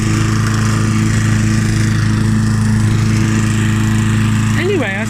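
A Mountfield M4 petrol lawn mower runs steadily up close, its engine droning loud and constant with a brief change in pitch near the end.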